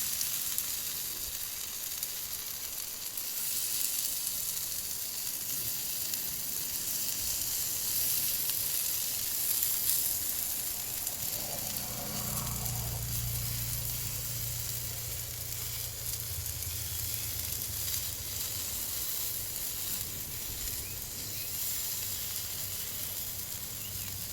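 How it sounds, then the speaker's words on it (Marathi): Paneer cubes sizzle steadily while being sautéed in a pan at a farmhouse kitchen, a constant close hiss that swells briefly midway with a low rumble as the pieces are turned. "सगळे पनीर आपण परतून घ्यायचं आहे"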